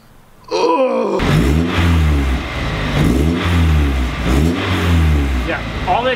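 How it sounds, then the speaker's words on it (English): A car engine revs hard with a raspy, puffing exhaust note from an exhaust leak at failed welds, loud and close, rising and falling in several bursts after a brief quiet start. "But there definitely is still an exhaust leak."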